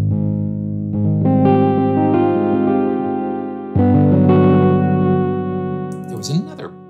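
The Fireside Keys preset of the Altera Keys keyboard instrument plays sustained, heavily effected chords with distortion and chorus-like shimmer, two swelling phrases with a brief fresh attack midway, ending in a short bright flourish.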